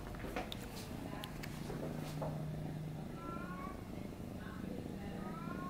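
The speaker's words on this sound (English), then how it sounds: "and he's purring." A young kitten recovering from a spinal injury purrs at a veterinary exam, a soft close purr with an occasional faint meow against steady background noise and a voice nearby.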